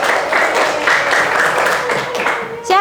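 Classroom applause from a group of students, a steady dense patter of clapping lasting a few seconds with faint voices mixed in, ending abruptly.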